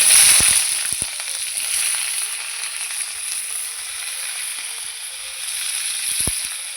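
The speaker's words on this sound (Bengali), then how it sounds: "এঁচড়টাকে আমি ভালো করে ভাজবো।" Pieces of green jackfruit sizzle steadily in hot oil in a pan, a bright continuous frying hiss with a few sharper crackles and pops, close and fairly loud.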